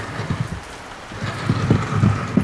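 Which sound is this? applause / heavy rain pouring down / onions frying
heavy rain pouring down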